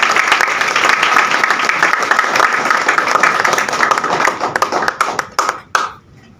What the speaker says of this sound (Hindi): तब तक आप चाहें तो ताली बजा सकते हैं।